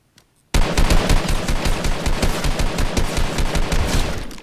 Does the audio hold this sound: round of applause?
no